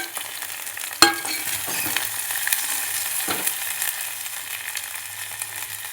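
Chopped onions frying in hot oil in a pan for Maggi noodles, a steady close sizzle with a sharp clank near the start and occasional stirring scrapes.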